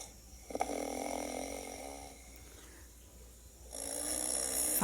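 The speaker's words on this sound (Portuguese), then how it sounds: "o lobo voltou para a cama, adormeceu e começou a roncar." Snoring from the wolf in the Little Red Riding Hood tale, heard as slow, rasping breaths across a few seconds, quiet and close.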